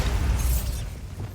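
Bombarda blasting spell explosion in the video game Hogwarts Legacy, a short heavy boom with a crackling, debris-like burst that fades quickly, loud and close.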